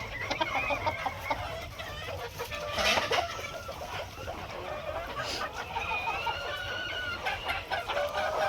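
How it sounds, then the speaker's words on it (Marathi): Desi village chickens dust-bathe in soil while clucking and murmuring nearby, with scattered calls over a continuous low farmyard background. "आपल्या कोंबड्या कशा मातीमध्ये डस्टबात करत आहेत"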